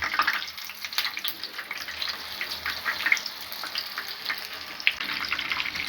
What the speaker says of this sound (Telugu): ఆయిల్లో వేసుకొని వేయించుకోవాలి